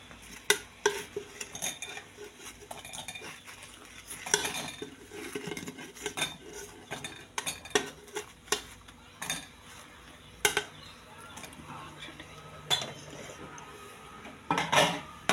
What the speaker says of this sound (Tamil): இந்த உருண்டையெல்லாம் குழம்புல போடுறேன் பாருங்கள்.